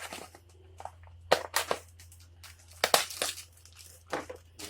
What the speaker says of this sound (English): So let's get this turkey cut open.